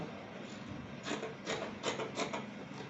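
Fabric being cut with scissors for a scissors-neck basque corset blouse, a few crisp snipping bursts spaced about half a second apart, close and moderately loud over a steady background hiss.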